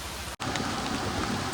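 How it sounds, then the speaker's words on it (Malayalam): Heavy monsoon rain pours steadily in a hilly area with water running down the slopes, a dense continuous hiss broken by one very brief dropout near the start. "മഴ നിൽക്കുന്നേ ഇല്ല കേട്ടോ."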